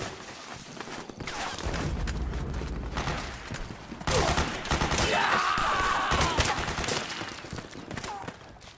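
Gunfire in the video game Metal Gear Solid 4: dense, rapid bursts of automatic fire crackle close by, mixed with shouting voices, footsteps and clattering battlefield noise.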